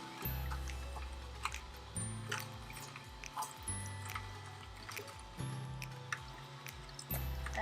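An Omega J8006HDS slow masticating juicer crushes ginger with a low, rhythmic grinding and squeaking that pulses roughly every second, close and quiet, with occasional small crackles and no talking.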